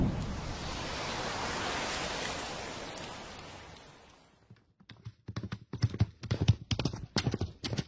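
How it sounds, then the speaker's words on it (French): Horse hooves clip-clop past in a 3D audio demo for the Nintendo Switch 2, a rhythmic run of clear, distinct hoof strikes that follows a fading wash of ocean-like noise, with no talk over it. "Le cheval il est passé derrière moi"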